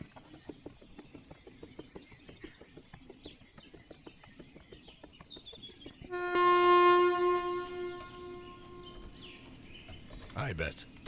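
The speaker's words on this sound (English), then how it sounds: "I hear the train a-coming." A passing train in the video game Infra: a distant rhythmic rumble of wheels builds before a loud, sustained horn blast sounds close by, with birds faintly in the background.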